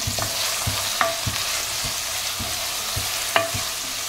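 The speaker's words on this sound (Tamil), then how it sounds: "இப்போ இதெல்லாம் லைட்டாக ஹீட் பண்ணிக்கலாம். ட்ரையாக வறுத்துக்கிறேன்." Whole spices being dry-roasted in a pan for a village-style country chicken curry powder, with a steady rhythmic series of spatula scrapes and taps over a soft hiss, close and clear, no voices.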